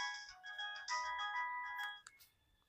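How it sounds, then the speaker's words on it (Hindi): A melodic phone ringtone plays for about two seconds, bright tonal notes stepping up and down, then cuts off into near silence. "अरे मुन्ना का फोन।"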